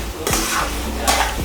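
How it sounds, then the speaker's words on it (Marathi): Puran filling of lentils and jaggery stirred over full flame in a thick-bottomed kadhai, two sharp spatula scrapes against the pan over a soft steady sizzle. "हे अजून पातळ आहे त्यामुळे मी फुल गॅसवर परतत आहे"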